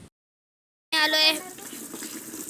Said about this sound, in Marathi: कार्तिक भरतोय पाणी.